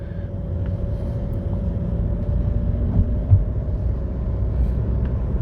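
A separate petrol engine runs steadily inside a Chevrolet Volt, a low continuous rumble with a faint tonal hum that stays even throughout, with no talk over it.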